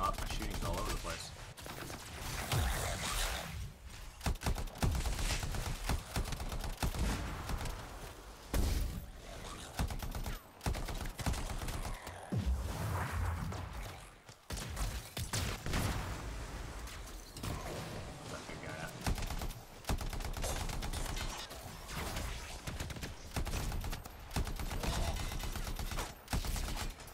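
Gunfire in the video game Anthem, a dense, continuous barrage of shots with the odd whoosh, going on for a long stretch and mixed under spoken voices.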